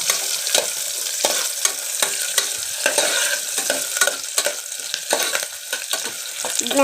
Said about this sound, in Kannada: ಚೆನ್ನಾಗಿ ಫ್ರೈ ಆಗಲಿ ಈರುಳ್ಳಿ ಕಲರ್ ಬರಲಿ ಗೋಲ್ಡನ್ ಕಲರ್ ಬರಲಿ